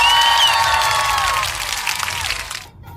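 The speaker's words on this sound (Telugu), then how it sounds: "నైస్, గుడ్ జాబ్ అని ఇలా క్లాప్స్ కొట్టి" Crowd cheering with high shouts and whistles over a dense wash of applause at a Bathukamma and Dandiya Dussehra celebration, loud and continuous, then cutting off abruptly near the end.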